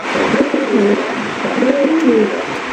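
Blue satin pigeons coo close by in a loud, continuous stretch of throaty, rolling calls with no voices.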